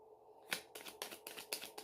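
Tarot cards being shuffled up close, a quick run of crisp, papery riffling bursts at a steady rhythm with no talking.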